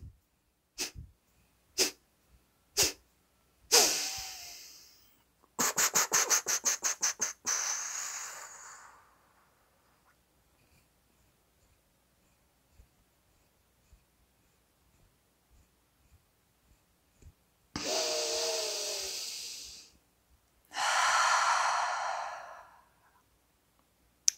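Forceful Kapalabhati breathing as fire-breath practice: four sharp, close exhalation bursts, then a fast run of rapid pumping breaths, and later two longer, louder rushing exhales, all close with no talk.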